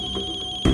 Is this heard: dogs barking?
no